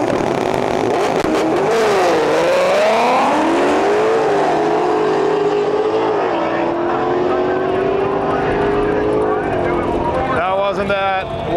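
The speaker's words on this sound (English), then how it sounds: "GT500 here in the right lane." A Ford Mustang GT500 makes a drag strip run, its loud engine rising and falling in pitch through the gears and roaring steadily, with crowd noise and voices around it.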